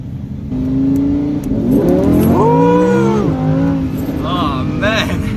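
A Lamborghini Huracan drives and revs close by, its engine tone climbing and falling through sweeping pitch changes during a photoshoot run, with people talking over it.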